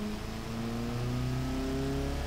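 A car engine revs in the Automation car-building game, a continuous mid-pitched drone that climbs steadily in pitch, loud and alone throughout.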